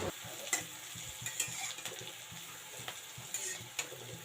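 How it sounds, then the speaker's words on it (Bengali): Green beans, carrots and capsicum stir-fry together in a pan with a steady sizzle, punctuated by light scraping and knocking strokes of a stirring spoon. "বিনস, গাজর, ক্যাপসিকাম সবগুলো একসাথে ভেজে নিচ্ছি।"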